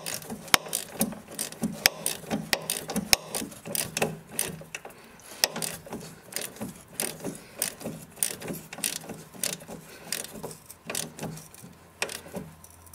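A ratchet turns a strut bolt on a 2007 Chevy Equinox front suspension, giving repeated quick clicking bursts in an uneven back-and-forth rhythm, close and crisp, with short pauses between strokes.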